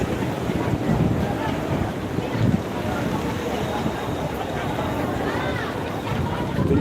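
Blustery wind roars across the microphone at the sea shore of Digha beach during rain, with steady surf and rushing water underneath, continuous and loud throughout with no break.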